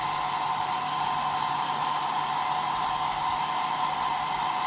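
A hot air gun or hair dryer warms the adhesive of a motorcycle helmet chin mount on a NEXX XR3R helmet, giving a steady, close whooshing blower noise with a constant motor whine that holds unbroken throughout, with no talking.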